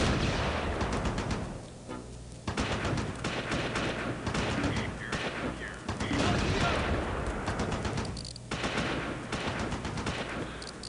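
A 37mm gun and small-arms fire crackle in a Close Combat Normandy beach battle, with repeated loud shots and bursts running nearly continuously and a brief lull partway through.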